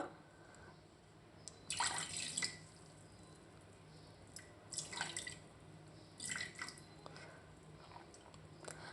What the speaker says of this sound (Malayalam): നമുക്കിത് ഒരു അരിപ്പയിലൂടെ അരിച്ച് ഇതിൽ തേങ്ങാപ്പാൽ വേറെ ആക്കിയിട്ട് എടുക്കാം